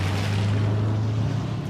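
Huge 6.75-litre V8 engine of a car driving under acceleration, a steady loud low rumble with a broad roar, continuous and close throughout.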